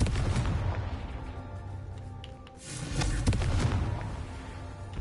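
Confringo blasting spell explosions in the Hogwarts Legacy video game, a series of booming blasts and bursts over a dense rumbling mix of game sound effects.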